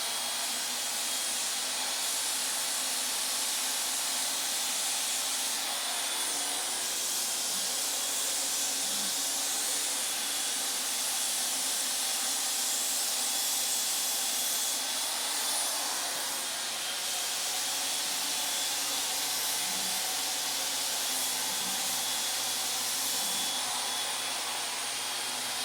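Apollo HVLP Precision-6 spray gun laying down wet bed sealer, a loud continuous airy hiss that runs unbroken throughout.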